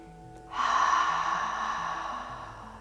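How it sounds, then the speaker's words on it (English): A long, breathy open-mouthed exhale during yin yoga breathing, a drawn-out "ha" close to the mic that swells quickly and slowly fades over a couple of seconds. "take 3 exhalations through the mouth. And as you do so, imagine you're trying to fog up a mirror"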